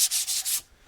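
Wooden stair pieces being sanded outdoors, three quick rhythmic rubbing strokes with a bright, gritty hiss, close by, then the sound drops off abruptly.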